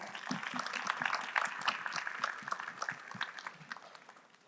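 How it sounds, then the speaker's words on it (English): A small audience at a business event claps in a brief, scattered burst, fairly quiet and thinning toward the end, with a few voices mixed in. "So big round of applause to you and your team."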